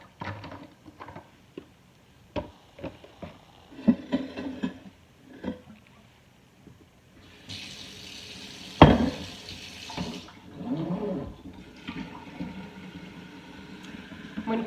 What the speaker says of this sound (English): So I will be adding water to it.